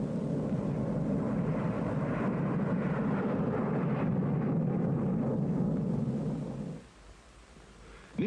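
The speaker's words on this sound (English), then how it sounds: "Specially instrumented aircraft fly the tests" A 1960-era instrumented Air Force test aircraft flying a nuclear weapons test mission: a loud, steady engine roar with broad low rumble that holds for nearly seven seconds, then drops away abruptly to quiet.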